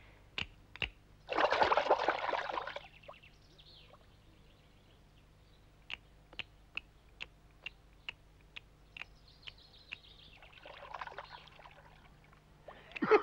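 Water is poured onto ground where coins have been planted, a short gush of splashing, then a run of sparse drips and small taps, with a second softer pour near the end. Quiet and close.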